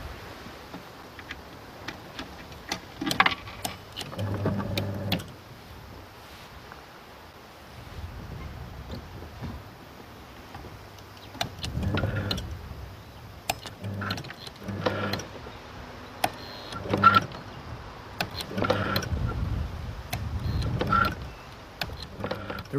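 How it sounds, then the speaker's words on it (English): A homemade nutcracker machine built for an exhibition, its motor switched by electromagnetic relays: repeated short whirring motor runs with faint clicks, starting and stopping irregularly at moderate volume, with a voice talking now and then. "The relays control the motor."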